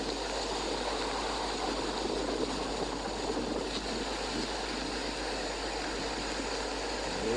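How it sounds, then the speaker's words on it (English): A steady, faint rush of a river flowing in Dominica after Tropical Storm Ernesto continues without a break, a soft even wash with no voices. "This is a Kulibi Street river."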